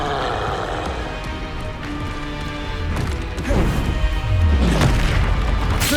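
Confringo fire spell explosions in the Hogwarts Legacy video game, booming blasts and crashing impacts layered over dense game action and music, growing louder toward the end.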